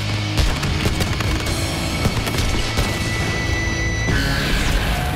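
A rapid series of booming firework blasts and cracks rings out on the streets of Valencia, loud and irregular, with sharp bangs scattered over a continuous rumble.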